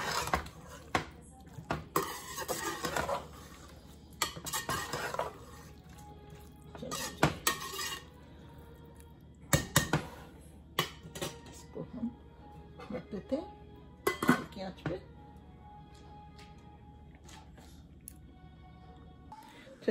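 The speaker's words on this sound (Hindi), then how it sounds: "अब इसमें हम मटर भी डाल देंगे, बस हिला के" A spoon repeatedly scrapes and knocks against a pan while peas are stirred into a potato, fenugreek and carrot curry, with irregular clinks over about twenty seconds and someone talking throughout.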